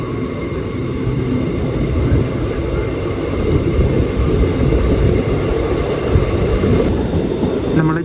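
Jaipur express train on the Chikkamagaluru–Yesvantpur line rolling toward Chikkabanavara station, heard from on board as a loud, steady rumbling roar with a constant hum throughout and no pause.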